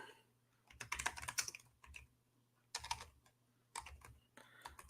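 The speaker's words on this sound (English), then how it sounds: "Trying to rush with my typing and it's not going well." Quick typing on a computer keyboard comes in several separate bursts of clicking keystrokes with short pauses between them. The sound is close but fairly quiet, over a low steady hum.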